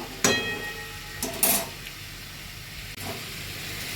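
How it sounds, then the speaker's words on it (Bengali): Masala kundru (ivy gourd) fries on a low flame with a steady hiss, broken by a few brief louder spatters and scrapes. "তো আর একটু ভাজি হবে, আমি লো ফ্লেমে ভেজে নেব।"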